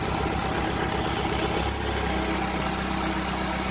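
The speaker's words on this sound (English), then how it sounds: "when I unplug this, you hear a misfire, but that little chirp went away." A GM LSJ engine idling with a misfire and an exhaust leak gives a steady, close rumble that shifts slightly partway through and settles into a lower, even drone, with no talking.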